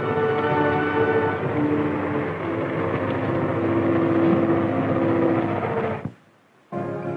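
M60 Patton tank engine runs on a steep 36% slope during a test, a loud steady mechanical drone with tonal whine that drops out suddenly near the end before briefly returning.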